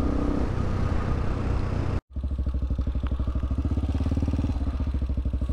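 A motorcycle fitted with a performance camshaft, with a loud close engine roar that cuts out briefly, then a rapid rhythmic pulsing exhaust as it accelerates, no talk.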